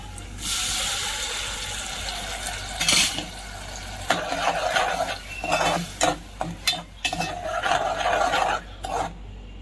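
Wet sizzling of a ground puree with crushed ginger and garlic in a hot pan, with bursts of stirring and utensil scraping against metal, close and irregular, no talking.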